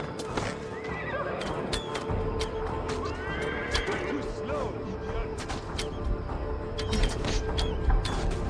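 Horses in Assassin's Creed Valhalla neigh and whinny repeatedly over a steady rumble of galloping hooves, loud and close, with a busy game soundscape running throughout.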